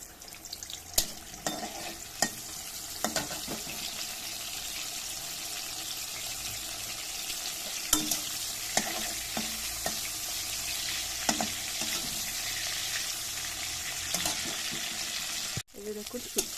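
Dried fish (shutki) fries in hot oil with a steady, close hiss, broken by sharp crackles and spatters and occasional stirring clatter, until a sudden stop near the end.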